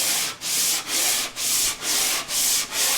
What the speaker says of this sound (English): So I'll use a wood block like this with 120 and sand with the grain.